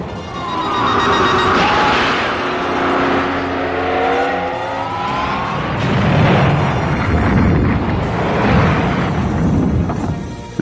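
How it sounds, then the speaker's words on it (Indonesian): A sustained, roaring explosion in an animated Dragon Ball Z fight, with rumbling low booms and whooshing, rising energy sweeps, loud and continuous for about ten seconds. "Alhasil terjadi ledakan yang begitu dahsyat di tempat tersebut."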